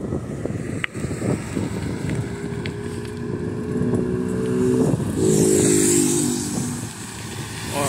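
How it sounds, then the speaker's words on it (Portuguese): A car and then a motorcycle speed past on a road beside a bike path in Itajaí. Each pass swells and fades as it goes by, heard close over steady wind noise on the microphone. "a velocidade que esse carro passa aqui e a moto"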